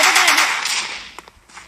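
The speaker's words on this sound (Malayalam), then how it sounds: "വെടി വെച്ച് കൊള്ളുന്നു." Gunfire in a shooting video game: a loud, rapid burst opens and fades away, followed by a couple of brief, sharper shots.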